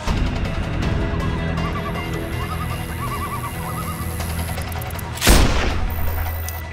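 One sharp, loud sniper rifle shot in Sniper Ghost Warrior 2 cracks out late, after a stretch of game ambience with faint chirping, tonal background sounds and a low hum.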